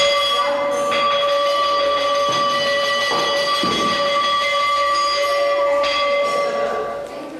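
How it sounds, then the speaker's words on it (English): A meal bell rings at the Theosophical Society in Adyar, a steady sustained metallic tone with strong harmonic overtones that carries loud and unbroken, fading slightly at the end. "The bell sounds 3 times daily, in the morning, at midday, and in the evening, signaling to everyone that the meal is ready."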